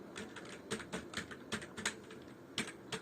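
Keys clatter on a computer keyboard in irregular bursts of quick taps. The clicks are close but fairly soft, with no voices over them.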